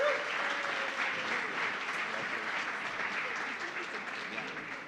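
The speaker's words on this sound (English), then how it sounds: "give her a round of applause" An audience at a live Show of Hands event gives a steady round of applause, a dense, moderately loud clapping wash over faint voices that slowly tapers off.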